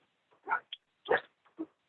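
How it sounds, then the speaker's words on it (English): Dogs barking during an online meeting, a few short separate barks and yips, moderately close but fairly quiet, with pauses between them and no talk over them. "I'll pause there since the dogs are barking"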